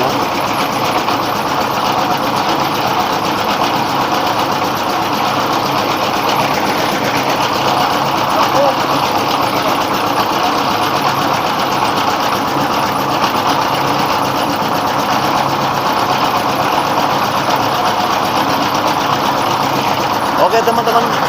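A 24 hp Dompeng diesel engine drives a rice milling machine, a loud, steady, close mechanical drone with constant vibration throughout and no pauses.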